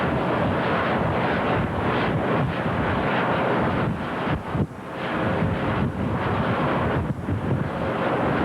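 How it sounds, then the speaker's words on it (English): Strong gusting wind at sea near an oil tanker spill site, roaring steadily and buffeting the microphone throughout with no speech. "the wind is blowing at between 25 and 30 miles an hour"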